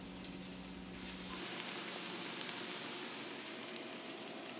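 Steady, hissing sizzle of vegan food browning in a hot pan, a constant crackling wash of frying that swells slightly after the first second and carries on alone without talk.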